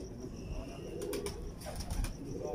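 A White Horse breeder pigeon in a Lahore loft gives low, soft cooing close by over a constant background rumble, with brief flutter-like sounds.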